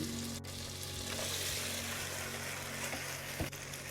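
Macaroni being stirred with tomato ketchup in a hot pan, a steady sizzle with soft scraping and stirring running throughout, loud and close with no voices.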